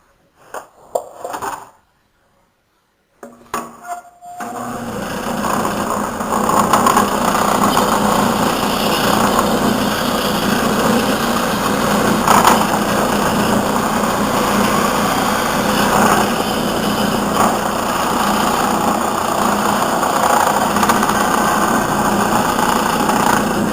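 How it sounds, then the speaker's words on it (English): A high-pitched power tool runs loud and steady while cutting out a mandolin scroll in a woodworking shop, following a few brief starts and pauses at the beginning. "And finally, we cut the scroll out."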